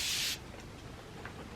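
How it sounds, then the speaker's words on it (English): A can of spray water releasing a fine mist, a single short bright hiss close by lasting about a third of a second, followed by quiet room tone. "so I got myself a can of spray water"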